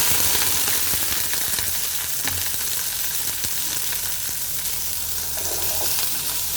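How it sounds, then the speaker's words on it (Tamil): Chopped pirandai (adamant creeper) sautés in hot oil for a thuvaiyal, giving a continuous, fairly loud sizzle with faint stirring scrapes and no talk. "இதை நல்லா வதக்கிக்கணும்."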